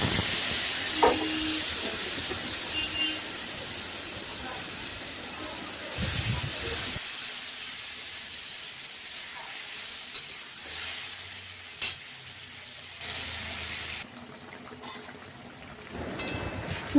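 Pabda fish frying in hot oil gives a steady close sizzle and hiss that runs throughout, with occasional stirring clatter and a few level shifts.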